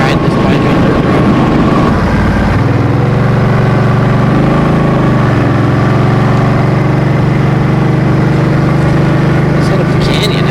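A Suzuki M50 motorcycle rides up a paved canyon road, its engine droning steadily and loud throughout with a shift in pitch partway through, wind roar mixed in.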